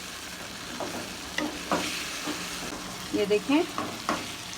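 Mutton pieces sautéed in a regular pot for spinach and fenugreek gosht sizzle and hiss while a spoon scrapes and stirs in several bursts, close and fairly loud, with a brief spoken remark.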